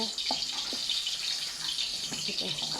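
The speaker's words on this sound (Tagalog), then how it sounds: "Ayan po, kumulo na po." A pot of water at a rolling boil while pieces of squash are dropped in for a mixed boiled vegetable dish, giving a steady close bubbling hiss with a few soft splashes.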